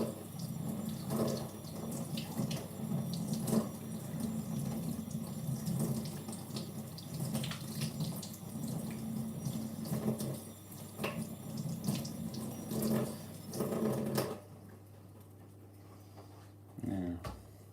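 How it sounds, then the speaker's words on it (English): Tap water runs steadily into a kitchen sink while cured salmon is rinsed, a continuous splashing flow that cuts off near the end, with a dog panting and whimpering nearby. "Rinse this all off."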